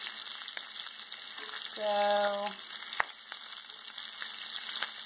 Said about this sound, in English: our steaks have been in the pan about 3 minutes.